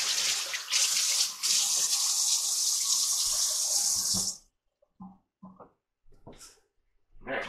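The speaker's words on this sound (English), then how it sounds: "Yes, I do wash my hands an awful lot." Hands washed under a running kitchen tap, a loud, steady close splashing gush that stops abruptly, followed by a few short soft knocks and movements.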